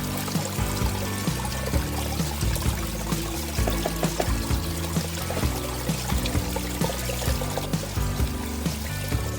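Water pours steadily through a gold separator sluice carrying sand, a continuous close gushing flow with small splashy ticks throughout and no talking.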